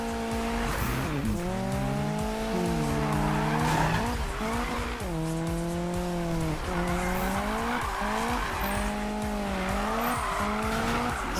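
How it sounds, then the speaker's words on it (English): A Volvo 242 DL drifts through corners in the racing game Need for Speed, its tires squealing in long, loud, wavering wails over steady engine noise. "Just gonna drift into the corners."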